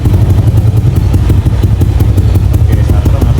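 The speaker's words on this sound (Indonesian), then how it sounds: "Oke, starter masih enak teman-teman." Yamaha Aerox scooter fitted with an upgraded cylinder head starting up and settling into a steady, clattery low idle, close to the recording phone.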